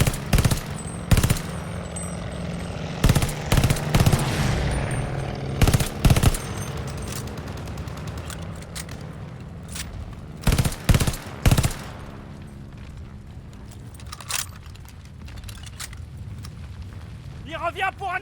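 Machine gun fire in the Call of Duty Vanguard video game, loud repeated bursts of automatic gunfire in short clusters over a rumbling battle backdrop, with voices talking through much of it.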